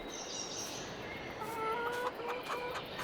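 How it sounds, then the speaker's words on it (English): Soft chicken clucks and brief squawks from a video game farm, Farming Simulator 22, over a steady background hiss, fairly quiet and intermittent. "Our very colorful chickens."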